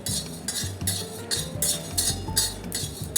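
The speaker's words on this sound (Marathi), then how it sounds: "थोडेसे धणे भाजून घेते" Coriander seeds dry-roast in a pan while a utensil stirs them, giving soft, rhythmic scraping and light clinking strokes that repeat steadily, close but quiet, with no talk.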